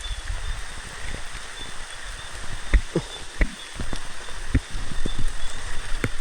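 Rain pattering steadily on a forest surface, a continuous wash of drops with occasional sharper taps, heard at moderate level with no voices.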